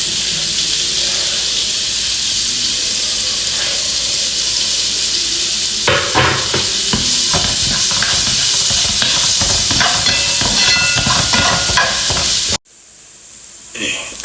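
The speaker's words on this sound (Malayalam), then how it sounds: "അപ്പോൾ ആദ്യം ഉള്ളി ഇട്ട് കൊടുക്കാം." Chopped onions frying in a hot pan for a Kerala-style prawn dish, a loud steady sizzle that intensifies with stirring scrapes midway, then cuts out abruptly near the end.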